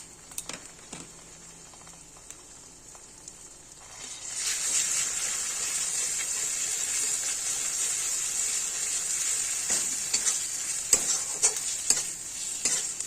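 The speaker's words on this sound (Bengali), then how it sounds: "এই পেটে রাখা মশলাটা আর পেঁয়াজের সাথে ভালো করে নাড়াচাড়া করে যতক্ষণ না তেল ছাড়ে ততক্ষণ ভালো করে নাড়াচাড়া করতে হবে" Spice paste and onions stirred and frying in oil in a pan for Bengali egg muitha: soft scraping at first, then a steady, close sizzle that rises about a third of the way in and holds, with occasional utensil clicks.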